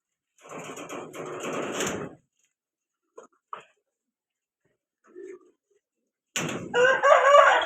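Chickens cluck and crow in short bursts separated by quiet gaps, with a couple of brief soft clucks in between, fairly close.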